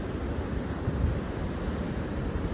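Ocean surf rumbles continuously at the Thurso break, a dense broad roar mixed with wind buffeting the microphone, with no voices.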